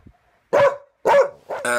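A dog barks three times close by on a roadside during a bike ride, each bark loud and sharp with short gaps of quiet between them.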